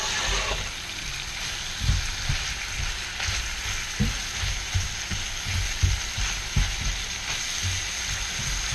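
Garlic and shrimp frying in a stainless steel pan give a steady close sizzle, with soft scraping and stirring knocks scattered through it.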